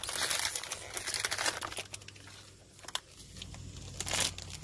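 A Hello Neighbor toy blind bag's plastic packaging is cut and handled, giving continuous close crinkling and crackling with a few sharper tearing rustles.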